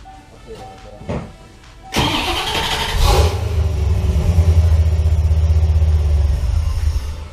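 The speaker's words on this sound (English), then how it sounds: "I'm going to start the car" A 1991 Chevrolet Corvette C4 engine cranks and catches, then settles into a steady low idle rumble that continues to the end; a few faint clicks come before it.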